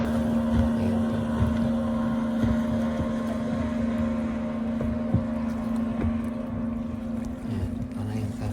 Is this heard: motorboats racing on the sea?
yes